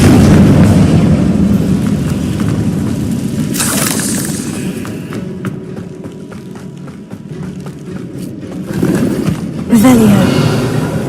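A Confringo blasting spell from Hogwarts Legacy goes off as a loud, broad burst with rumbling explosion noise, set among dense game sounds and music, with a second bright blast near the end.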